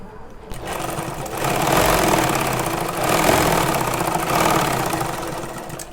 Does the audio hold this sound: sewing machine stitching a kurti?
yes